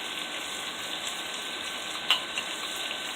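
Onions, sun-dried tomatoes and a tablespoon of minced garlic sizzling in a pan: a steady, close hiss of frying with one brief sharp crackle near the middle and no talking.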